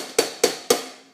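Three evenly spaced, sharp wooden clicks are struck with a drumstick laid flat across a snare drum, each a crisp near hit with a short ring that fades before the next, with no talking.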